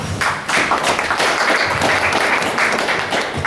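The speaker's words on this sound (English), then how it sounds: "It's a very genteel clap." Polite applause from an audience at a community poetry reading, a dense, even patter of many hands clapping fairly close, steady throughout.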